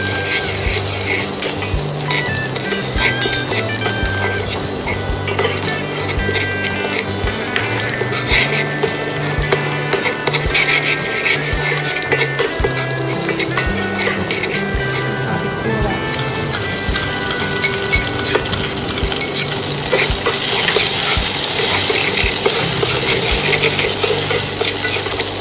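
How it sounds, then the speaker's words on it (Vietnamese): Crab meat stirred in a cooking pot with sautéed shallots for baby's crab porridge, spoon scraping and light sizzling running steadily throughout, fairly loud and close. "Mình sẽ cho thịt cua vào để cháo nha các mẹ."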